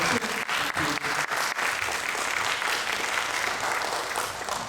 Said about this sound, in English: if you want to give everyone a round of applause for their answers